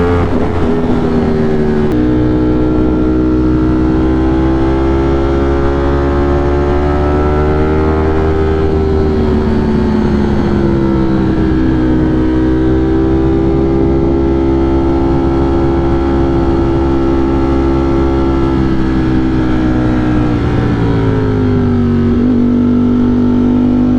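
Ducati motorcycle engine droning steadily while riding, pitch gently rising and dipping with throttle changes, loud and continuous with wind noise.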